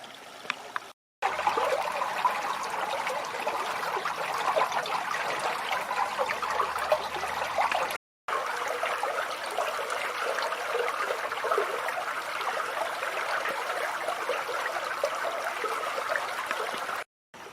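A mountain stream flows steadily along a hiking trail at Wangedigala, a continuous close rush and trickle of water heard alone, broken by two short silent cuts.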